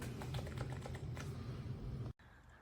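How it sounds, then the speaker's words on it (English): Rapid clicking keystrokes on a pink MOFII wireless 18-key numeric keypad with the stabilizers removed from the 0 and enter keys, steady and close for about two seconds before stopping, with no talk. "I took out these stabilizers from the 0 and the enter just because they were kind of noisy, but now it's more quiet."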